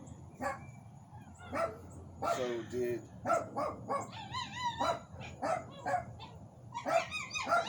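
Near a spot where plumbing cables run underground, a dog barks repeatedly in short, irregular bursts, some whiny and yipping, mixed in with people talking nearby.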